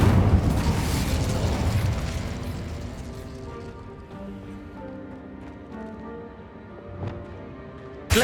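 Casting the Incendio fire spell in Hogwarts Legacy unleashes a loud, roaring burst of flame that rumbles heavily at first, then fades into a lingering crackle with a sharp pop right at the end.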